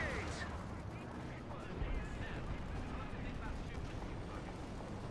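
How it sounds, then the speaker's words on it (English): Rockets fire in the WWII strategy game Company of Heroes 2 during a 4v4 match, a dense rumbling barrage of booms and blasts running steadily under a commentator's voice. "Ooh, the rockets."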